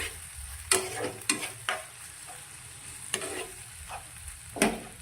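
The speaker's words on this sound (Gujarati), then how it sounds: "બધી જ વસ્તુને સારી રીતે મિક્સ કરીશું" Tomato chutney sizzles quietly in a pan while a utensil scrapes and stirs in several sharp strokes spaced irregularly.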